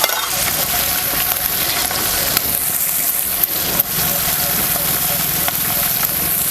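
Sliced onions sautéing in a pan for pulao, a loud continuous hissing sizzle with occasional clicks of stirring throughout.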